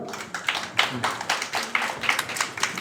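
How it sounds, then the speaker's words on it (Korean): Students at a youth history research contest in South Jeonnam are welcomed to the stage with a short burst of audience clapping, a few hands tapping in an irregular, moderately loud patter. "큰 박수로 맞으시기 바랍니다"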